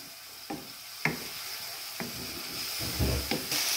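Tomato puree fries in a pan for prawn curry and a spoon stirs it with several distinct scraping strokes over a soft steady sizzle, close by and without talk.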